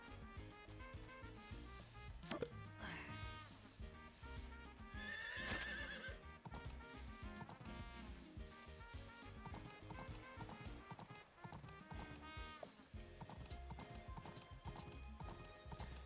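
A horse named Silver in the farming game Pioneers of Olive Town, trotting with rhythmic clip-clop hoofbeats and letting out a whinny, faint and set against background game music.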